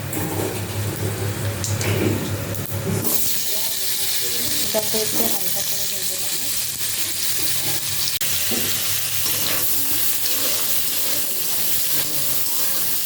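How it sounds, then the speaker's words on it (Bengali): Hot oil sizzles loudly as panch phoron, dried red chillies and bay leaves are added, the crackle flaring then settling into a steady fry with occasional stirring clinks. "তেল গরম হয়ে গেছে পাঁচ ফোড়ন শুকনো লঙ্কা তেজপাতা দিয়ে দিই"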